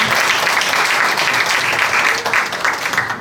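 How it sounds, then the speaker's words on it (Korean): Brief, lively audience applause at a book launch event, dense and steady clapping from a crowd close by. "우리 김철호 목사님께 다시 한번 큰 박수 보내주시기 바랍니다"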